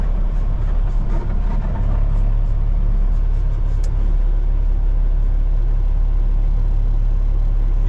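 Propane delivery truck pulling over beside a river bank, heard as a loud, steady low engine rumble from inside the cab, continuous throughout with only slight variation.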